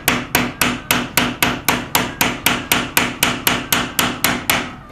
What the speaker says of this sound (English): and nail it in.